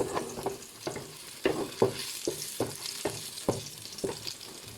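Boiled macaroni is stirred in a pan over heat, with a soft sizzle underneath and repeated scraping strokes of the utensil against the pan at an uneven rhythm, close up and with no talk.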